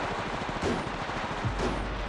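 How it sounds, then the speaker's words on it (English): Steady automatic gunfire in the Apex Legends Mobile video game, a dense continuous stream of shots with a couple of heavier impacts, loud and unbroken throughout. "Opening fire."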